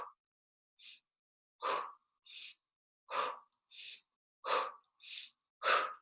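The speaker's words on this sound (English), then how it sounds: "and exhale" A person breathing deeply during a guided exercise, with slow alternating breaths in and out, each exhale a soft airy rush, spaced about a second apart and heard close up in a quiet room.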